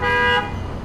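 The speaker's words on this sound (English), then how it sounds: "Oh, why'd he honk?" Short car horn honk, a single tonal blast lasting under half a second, loud and close on a street during a motorcycle ride, followed by low traffic rumble.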